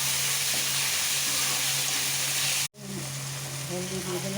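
Ginger, garlic, onion, coriander leaves, tomato and green chilli sizzle in a pan with a steady hiss, briefly cut off midway before the frying resumes with faint stirring.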